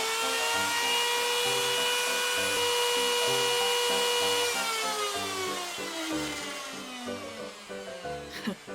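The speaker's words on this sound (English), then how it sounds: "Here's the engine we purchased to manufacture dry plates." A second-hand 2-horsepower engine bought for making dry plates runs with a loud, steady droning hum and a whining overtone. Partway through the pitch shifts, and the engine is heard alone.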